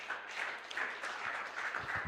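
A congregation applauds during a Sunday church service, soft and fairly distant, a steady patter of clapping over a short stretch.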